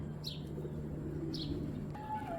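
Pigeons in a pigeon club, a few faint brief chirps and calls over a low steady hum and background murmur, quiet and somewhat distant.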